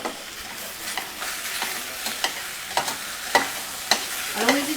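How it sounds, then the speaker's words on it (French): Small pieces of veal browning in oil in a frying pan, a steady close sizzle broken by regular sharp scraping taps of a utensil turning the meat. "ici je peux bien dorer mes petits morceaux de veau à la poêle"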